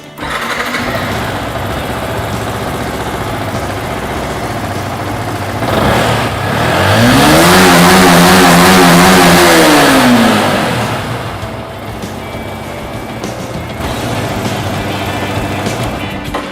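A motorcycle engine idles loudly, then revs up to the ECU RPM limit and holds a high buzzing whine against the limiter for a few seconds before dropping back to a steady idle.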